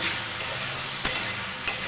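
Steady broadband sizzle of food frying in a pan for a Bengali-style masala chicken, prawn and egg pasta dish, continuous and close with a couple of brief clinks or stirs.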